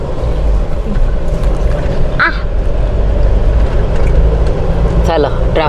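Road traffic heard from inside a moving car: a steady low engine and road rumble with passing vehicles and a couple of brief horn-like squawks, while people talk in the cabin.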